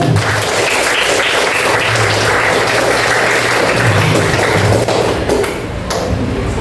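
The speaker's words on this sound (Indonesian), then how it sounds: "beri tepuk tangan" A classroom of students applauds during an Islamic history lesson. The clapping is dense and steady, loud and close, and lasts several seconds without speech before fading slightly near the end.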